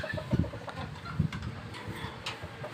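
Backyard SBR chickens cluck softly and intermittently in a pen, low throaty notes recurring over faint ambient noise.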